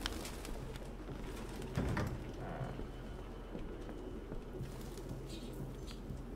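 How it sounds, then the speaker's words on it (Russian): Pigeons in Detroit: Become Human coo softly in low, rounded calls that repeat at an uneven pace over light ambient noise. "Блин, сколько тут голубей."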